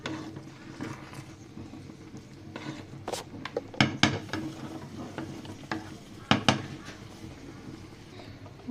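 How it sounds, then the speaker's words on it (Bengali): Stirring sticky rice payesh, cooked with date palm juice, in a pot over a low flame: a soft scraping and bubbling bed broken by several sharp spoon clinks against the pot, close and fairly quiet. "এই পর্যায়ে আমি আবারও নেড়ে চেড়ে দিব"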